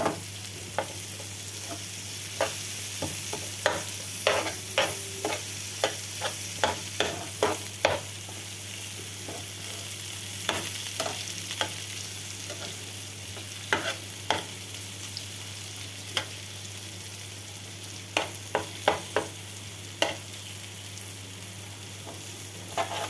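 Pointed gourd and onion stir-fry in a pan over a gas burner with a continuous low sizzle, repeatedly broken by sharp clinks and scrapes of a spatula against the pan and a steady hum underneath.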